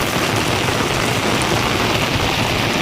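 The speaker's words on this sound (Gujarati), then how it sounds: "વિછળીમાં ધોધમાર વરસાદ." Heavy downpour pounding a riverside village, a dense, loud, continuous hiss of rain with no voices.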